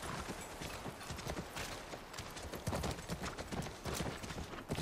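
Horse hooves thud in a quick, uneven rhythm against a noisy background in The Last of Us Remake on PS5, faint and continuous for a few seconds.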